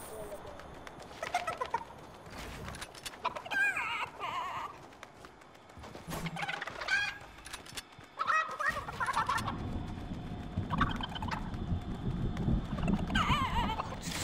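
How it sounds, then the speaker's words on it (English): A chicken in a video game clucks and gobbles in several short bursts spread across the span, moderately close, mixed with game noise and a rushing storm-like wash in the second half. "Just trying to get this chicken."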